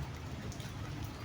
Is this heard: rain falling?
yes